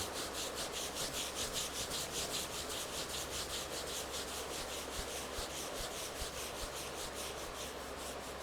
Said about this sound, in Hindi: अब थोड़ा सा अच्छे से रब कर दीजिए।